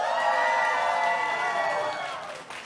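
A studio audience at a quiz bowl season finale cheering and whooping for a team, a sustained wash of high excited voices and shouts that fades slightly near the end.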